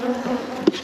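Honey bees buzz around a hive during requeening of a queenless colony with a nuc, a close, steady insect drone with one louder bee passing near.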